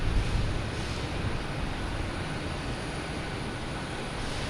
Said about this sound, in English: All right, we're going to take off now. Another Cessna.